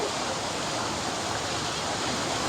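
Inside a hidden cave in the Pyrenees behind a cascade, a waterfall pours in a steady, dense broadband roar with no breaks, filling the space evenly.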